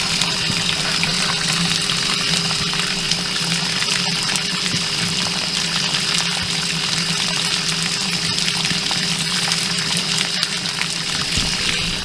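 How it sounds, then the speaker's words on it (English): Water pours steadily into an RV water heater as a continuous loud, even rushing gush with a faint steady hum beneath it, unbroken throughout and with no voices. "We'll fill the water heater."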